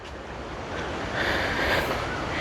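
Sea waves wash against the coast of Delft island in Jaffna with a continuous, rushing surf that swells in the middle, mixed with gusty wind buffeting the microphone.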